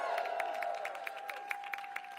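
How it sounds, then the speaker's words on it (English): Crowd applause at an outdoor Pride flag raising in D.C., steady scattered hand claps with a sustained tone and a cheering murmur underneath, moderately distant. "Give them a big round of applause."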